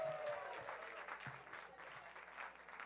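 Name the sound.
comedy club audience applauding a comedian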